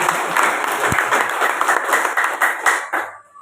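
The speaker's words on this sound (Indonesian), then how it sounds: "Mari kita tepuk tangan untuk jemaat" Church congregation applauding at a Christmas service, a brisk round of many hands clapping together that tapers off and stops near the end.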